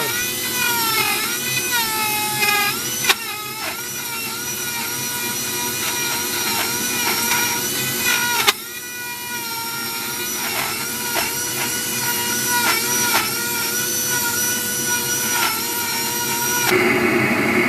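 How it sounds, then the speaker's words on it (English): Dremel rotary tool grinding into a tight hollow spot, a high whining motor with warbling pitch shifts as the bit bites and eases, loud and close, with a couple of sharp clicks along the way. "I'm doing this one hand with the Dremel and one hand with the camera"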